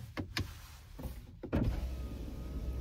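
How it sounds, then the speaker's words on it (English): Power windows on a Toyota GR Supra 2.0 whir down partway, with a few short motor bursts and clunks giving way to a steadier, louder electric hum, close up inside the car. "We can even put them down. Let's put them down."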